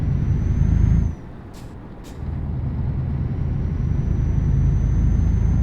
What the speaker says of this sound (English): See all these different noises as I pop in and out of gear.